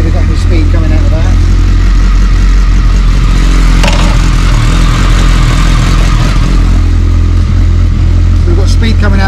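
BMW K1200S motorcycle engine running loud and close in gear with the rear wheel lifted and spinning, a steady mechanical drone with a low rumble and brief shifts in pitch, and someone speaking over it.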